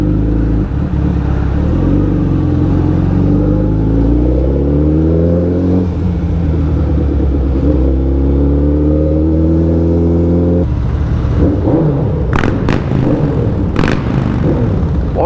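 Heavy traffic on a narrow mountain road toward Theog, with car and motorcycle engines rumbling and revving loudly and steadily close by, shifting pitch as vehicles accelerate, and sharp horn-like bursts near the end.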